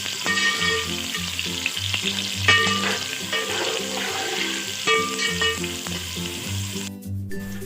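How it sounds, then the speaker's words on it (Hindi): Chopped onions fry in a cup of oil in a pan. A close, continuous sizzle crackles throughout, with occasional stirring scrapes, and no voices. "यहाँ मैंने 1 कप ऑयल लिया है जिसमें मैं कटे हुए प्याज ऐड करूँगी और इनको लाइट गोल्डन होने तक फ्राई करूँगी।"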